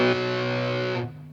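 Electric guitar chord played through a Zander Circuitry Siva distortion pedal on clipping diode setting 2, a thick, saturated, buzzy sustain ringing out loud and steady for about a second before being cut off abruptly.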